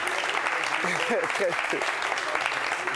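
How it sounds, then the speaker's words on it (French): Studio audience applause for guests at the close of a French-language television talk show, steady and moderate, with a voice speaking over it. "Applaudissements encore pour eux, s'il vous plaît."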